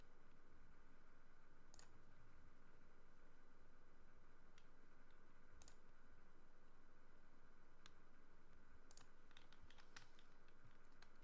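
Computer keyboard typing into a text document, sparse faint key clicks scattered over a steady hum of background noise, with no talk.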